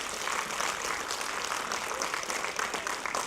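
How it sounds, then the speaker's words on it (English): Audience applause at a fifth grade graduation ceremony, dense continuous clapping from a large crowd filling the room, loud and even throughout. "I want you to give them a round of applause and thank them for being here."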